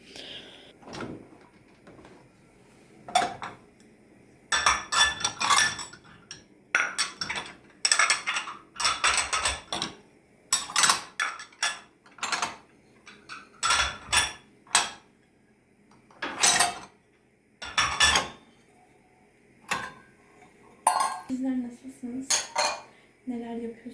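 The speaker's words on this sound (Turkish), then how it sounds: "ben de bulaşıkları boşaltacağım" Dishes and cutlery being unloaded in a home kitchen after cleaning: a steady run of sharp metallic clinks and ceramic clatters, close and fairly loud, in repeated bursts with short pauses, no talking.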